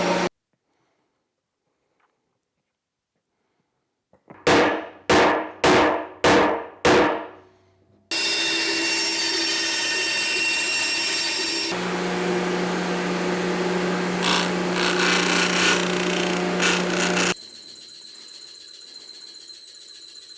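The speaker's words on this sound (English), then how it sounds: "That sander takes forever to wind down." A power sander, used on furniture salvaged from the street, runs with a few sharp knocks before it, then drones loudly and steadily, shifts pitch and keeps whirring as it slowly winds down, with no talk.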